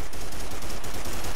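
Rapid, dense gunfire from the Pathfinder's shotgun in the Primal Carnage dinosaur-hunting game, loud and continuous with rattling shots packed close together and no voices.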